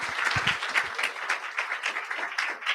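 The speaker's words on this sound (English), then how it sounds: "Another round of applause, please." An audience at a youth pitch competition gives sustained applause, a steady wash of many hands clapping throughout.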